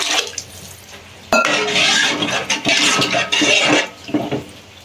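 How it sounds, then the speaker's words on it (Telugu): Water pouring and splashing into a cooking pot of fish pulusu, a tamarind fish stew of kana ganthalu fish, with clinks of the vessel, steady and close for several seconds. "తగినన్ని వాటర్ పోసుకోవాలి."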